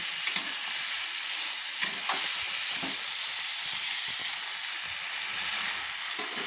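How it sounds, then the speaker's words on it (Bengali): Fried potatoes are turned through a curry in a pan, giving a continuous loud sizzle with a few soft stirring scrapes and knocks near and steady throughout. "এবার আমি তুলে দিলাম ভেজে রাখা আলুগুলো, দিয়ে ভালো করে আমি নেড়ে নিচ্ছি।"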